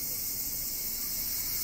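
Dense chorus of cicadas at a historic site with reconstructed Edo-era katamon-style gates in Fukui, Japan, a steady, continuous high-pitched drone that holds at the same loudness throughout with no talk.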